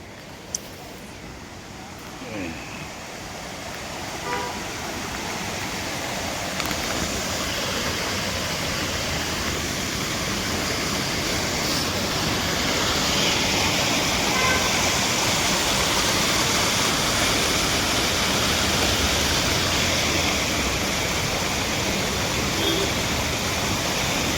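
The Dataphokari waterfall at Khandapada, Nayagarh, roars in a steady, loud rush of falling water that builds slightly and then holds constant for the whole stretch.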